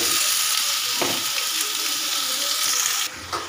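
Spices sizzle and fry in hot oil for fish-head moong dal, a steady close crackle with a couple of brief stirring or clattering knocks, then a slight drop in intensity near the end.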